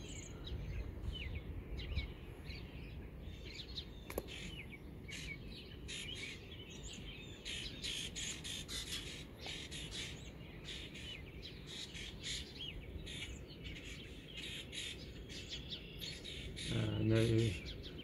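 Birds chirp and sing steadily at sunrise in Petersburg, Illinois, many small calls overlapping against a low outdoor rumble, moderately distant, with no one talking.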